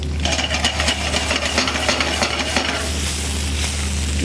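Fish and vegetables sautéing in a pan give off a steady, close sizzle, with scraping and stirring sounds mixed in over a low hum.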